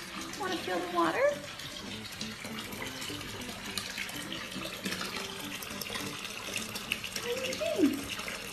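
Water runs steadily from a tap into a basin, a constant close splashing hiss that carries through the whole stretch, with occasional cat-like squeaks rising over it.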